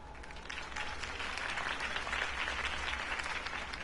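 Crowd applause at a campaign rally for Harvey Dent in the Batman Telltale video game: dense, steady clapping from a large audience, loud and continuous throughout with no break.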